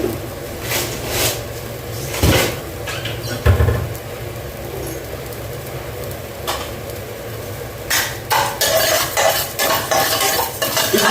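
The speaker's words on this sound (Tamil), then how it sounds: "மிளகா எல்லாம் சேர்த்து வறுத்துக்கலாம்" Urad dal and dried chilies being dry roasted in a pan for Iyengar puliyodharai powder, with a spoon scraping and stirring in irregular bursts and a faint dry crackle underneath.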